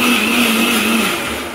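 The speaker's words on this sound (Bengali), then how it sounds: "তারপরে এখন ব্লেন্ডার করে দিচ্ছে।" An electric blender runs steadily while blending garlic, a loud continuous motor whir with a high whine, tapering off slightly near the end.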